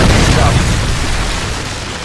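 A Predator missile from a Call of Duty Search and Destroy match detonates as a deep, sustained boom that rumbles steadily for the whole stretch, loud and close, its roar slowly fading.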